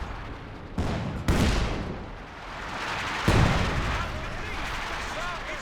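Artillery barrage in Company of Heroes 2, several heavy blasts and booms landing one after another with gunfire crackling between them, moderately loud beneath a voice talking.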